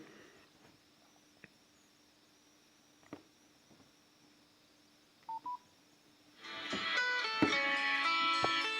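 After quiet clicks and two short beeps, a Nokia X2-00 mobile phone plays its bright electronic startup melody, swelling up loudly near the end.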